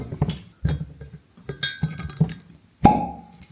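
Wine glasses clink and knock as a second wine is served in Cilaos on Réunion: a series of sharp, close glassy taps at irregular intervals, ending in one bright ringing chime.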